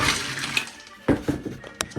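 Ice water poured over freshly boiled little onions for a blanquette de veau, heard as a close burst of splashing and running water followed by a few scattered wet knocks and clatters.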